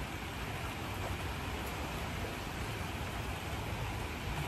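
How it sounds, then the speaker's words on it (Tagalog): Heavy rain pours down steadily in a dense, loud, unbroken hiss outdoors during planting, with no voices. "Walang nag-uulan, malakas ang ulan."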